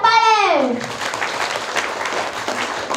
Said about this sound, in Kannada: ಮತ್ತೆ ಒಡಿರಿ ಚಪ್ಪಾಳೆ